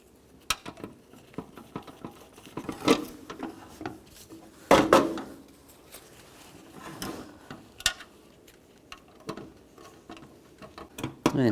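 Window motor mounting bolts are snugged down on a 2004-08 Nissan Maxima driver's door, heard as quiet scattered metallic clicks and taps of the tool with brief pauses.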